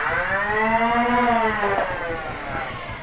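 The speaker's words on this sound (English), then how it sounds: "I recommend you rev it up for a few seconds before firing to max out the flywheels" Flywheels of a Nerf Elite 2.0 Turbine blaster spin up with a rising electric whine, holding a steady high pitch before winding down, loud and close.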